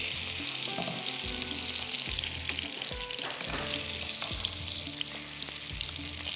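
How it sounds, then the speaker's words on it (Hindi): Seekh kebabs fry in hot oil with a steady, loud crackling sizzle, close up, broken by occasional knocks and scrapes of a utensil against the pan. "इसको भी हम फ्राई कर रहे हैं"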